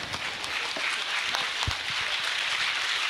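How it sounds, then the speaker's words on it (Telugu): An audience applauds together, a steady dense wash of many hands clapping at close to moderate distance with no pauses across the whole stretch. "అందరం నుంచొని వాళ్ళ క్లాప్స్ కొట్టి"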